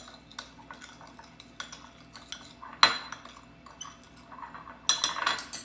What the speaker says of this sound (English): I'm just going to stir it together till it's evenly incorporated.